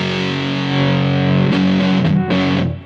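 An electric guitar runs through a Big Muff fuzz pedal with the volume turned up and the tone knob bypassed, giving thick, biting sustained distortion with a few loud strummed hits before it fades.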